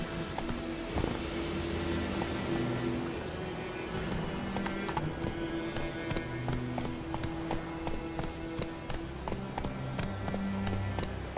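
Roach the horse gallops in The Witcher 3, hooves clip-clopping in a steady, rapid rhythm that runs throughout, with occasional snorts and game ambience.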